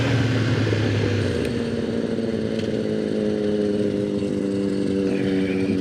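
Motorcycle without traction control on a road ride, its engine loud and close, pitch settling and holding steady in a continuous droning rev with a rough mechanical edge.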